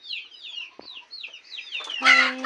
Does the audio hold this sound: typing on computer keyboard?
no